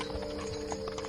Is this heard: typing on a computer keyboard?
no